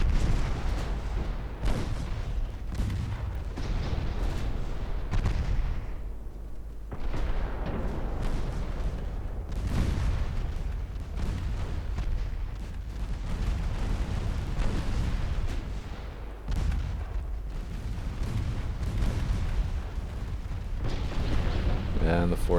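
Naval gunfire in Ultimate Admiral Dreadnoughts, 5.9-inch and 4-inch ship guns firing at a 1956 British battlecruiser and convoy engagement: irregular repeated booming shots and rumbling impacts through the whole stretch, with someone talking over them.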